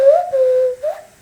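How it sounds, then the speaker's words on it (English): A nose whistle from Mexico gives a short, loud, sliding tone, then a second rising note after a brief gap, with no talking. "I have all these toys and bird whistles and this nose whistle that I really like."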